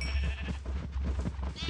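Farm animals bleat and low in a crowded pen in the video game LokiCraft, a dense overlapping chorus of calls that carries on loudly and steadily with no pauses and no talk.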